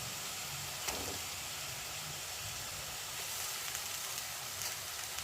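Ginger garlic paste added to fried onions in a pan gives a steady, quiet sizzle and hiss throughout, with a few faint clinks and no voices.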